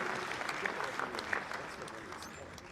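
Audience applause for the chairman of the National Council for Civic Education and Democracy at a Sierra Leone electoral system committee meeting, a steady, moderately loud wash of clapping with murmured voices underneath throughout.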